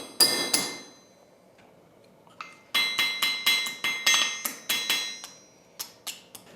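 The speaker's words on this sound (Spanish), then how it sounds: "Para sujetar el asa, el caldero lleva dos anserones cuyos agujeros realiza Manuel en caliente a golpe de puntero." A steel punch is hammered through hot copper sheet to pierce rivet holes in a handmade cauldron's handle lugs, with a few sharp ringing metallic blows, a pause, then a rapid close series of about a dozen strikes.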